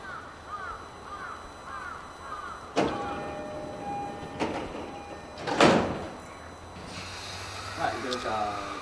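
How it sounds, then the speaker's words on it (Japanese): JR E231 series suburban train on the Tokaido Line at Kozu station, with sliding doors closing in a sharp burst of thuds and hiss after chime-like tones, a crow cawing nearby and a platform announcement running underneath. "ドアが閉まります。"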